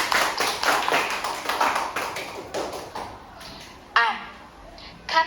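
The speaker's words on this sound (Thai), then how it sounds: "ปรบมือให้ตัวเองหน่อยค่ะ" A group of children in an online English class clap for themselves, a burst of quick overlapping claps lasting a few seconds, then a couple of sharper isolated claps later, over faint room noise.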